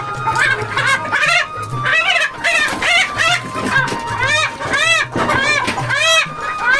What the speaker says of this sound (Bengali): দেখেন কত বড় মুরগি, তারপরে ডিম পাচ্ছি না।